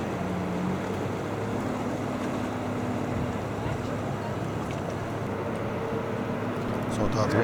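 A four-motor patrol boat on a river gives a steady engine drone mixed with water wash. The sound holds even throughout, while a voice talks over it.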